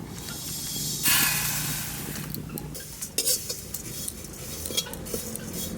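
Flattened rice (chira) frying in a wok is stirred steadily, with a hissing sizzle under intermittent scrapes and clinks of the spatula against the metal pan.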